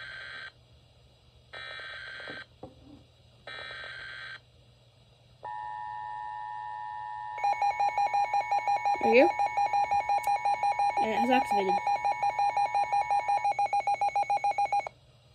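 Alert tones of a NOAA weather radio tornado warning on a Midland WR-series receiver: three short repeated bursts, then a long steady tone, then a loud rapidly pulsing tone with chirps, all close and clear.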